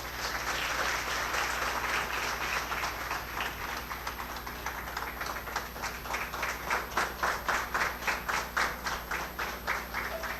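A lecture audience applauds at the close of a guest pharmacy talk, a dense steady round of clapping that settles into a rhythmic, loud, near unison beat toward the end.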